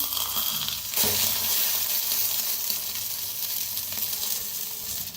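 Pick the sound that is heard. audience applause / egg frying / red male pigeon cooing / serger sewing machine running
egg frying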